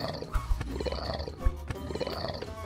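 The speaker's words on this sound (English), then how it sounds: "Listen to the alligator." An alligator in the video game Bash the Teacher gives off low, rumbling roar-like growls that swell and fade in a few pulses over a busy layer of game sound.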